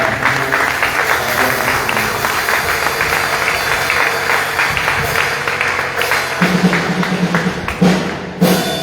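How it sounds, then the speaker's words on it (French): A church congregation applauding in worship, a continuous wash of many hands clapping, loud and dense, with thumps and a low rumble underneath and a few louder claps near the end. "nous applaudissons l'Esprit de Dieu qui a la vie"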